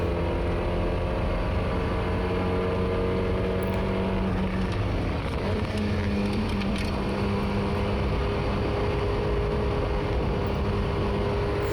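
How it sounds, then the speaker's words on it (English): A Mazda MX-5 twin-cam engine revs hard on track at Oulton Park, its steady high-pitched drone rising and falling through the gears for several seconds with constant wind and road noise and no voices. "Twin cam absolutely singing."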